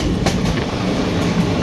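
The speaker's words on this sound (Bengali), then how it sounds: "ফাইনালি ট্রেন ছেড়ে দিল একদম 12:55-তে, পুরো ডট টাইম যেটা ছিল আমাদের ট্রেনের।" A passenger train pulls away from Kolkata station, its close, steady rumble mixed with rhythmic wheel clatter filling the whole moment without any voices.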